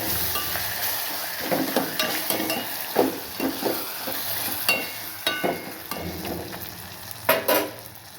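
Tamarind frying in oil in a pan for pulihora, a steady close sizzle broken by several sharp stirring scrapes and clinks, with no talk.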